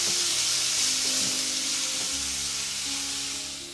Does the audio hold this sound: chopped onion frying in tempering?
yes